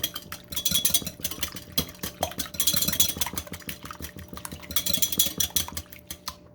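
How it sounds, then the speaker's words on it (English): Eggs are whisked in a bowl for crepe batter, a fast, rhythmic clinking and tapping of the whisk against the bowl that carries on almost continuously, close and fairly loud. "Then I'm gonna whisk my eggs real good, like so."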